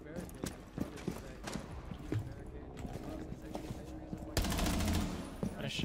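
Rapid gunfire bursts in a tactical shooter video game, with sharp repeated shots in quick succession followed by a louder dense burst near the end, under a player's voice chatter.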